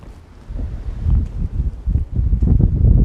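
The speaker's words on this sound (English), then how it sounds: "it's very cold, very windy" Steady low wind buffeting and rumbling against a microphone outdoors on a cold winter day in Fortrose, gusting louder toward the end, with no voices.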